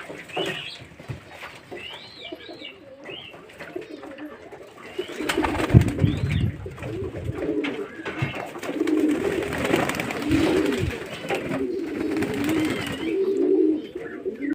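Pet pigeons bathing together at home, with soft cooing and wing-flutter splashing rising in the second half, a steady busy bird commotion close by and no talk.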